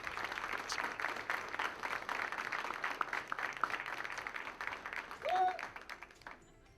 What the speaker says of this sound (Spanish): Por favor, un fuerte aplauso para Romina Tepiski.